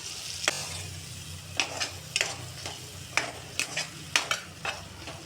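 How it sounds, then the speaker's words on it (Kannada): Masala for a chickpea gravy fries in a pan, a quiet sizzle punctuated by sharp, regular spoon taps and scrapes against the pan roughly every half second. "ಇವಾಗ ಇದನ್ನು ಚೆನ್ನಾಗಿ ಸ್ವಲ್ಪ ಫ್ರೈ ಮಾಡ್ಕೊಳ್ಳೋಣ"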